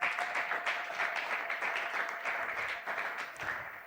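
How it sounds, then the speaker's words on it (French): A church congregation applauding at a Sunday praise and thanksgiving service, a steady crowd of many hands clapping together, fairly loud and continuous without speech. "Est-ce que tu peux acclamer très fort le Seigneur?"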